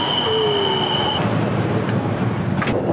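A Bangkok commuter train runs with a steady loud rumble, long high wheel squeals early on and a rising tonal whine, continuous and close with no talk.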